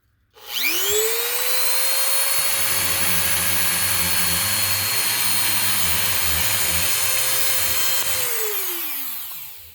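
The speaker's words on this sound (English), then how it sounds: "I'm basically letting the weight of this Dremel tool here do the work." A Dremel rotary tool spins up, whines steadily while grinding against a knife blade with a rough rasping layer underneath, then winds down; close and loud, no talking.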